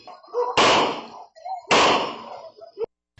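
Two sharp, loud handgun shots ring out about a second apart in CCTV footage of a street scene, each a sudden broad burst, with a narrating voice heard between and around them.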